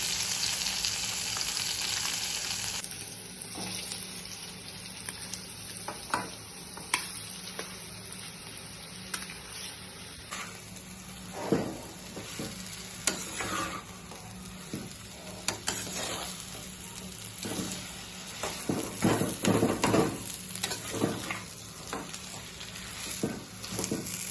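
Onion, tomato and green chili fry in a pan with turmeric for vada pav filling, a long close sizzle broken by frequent spatula scrapes and clatters against the pan.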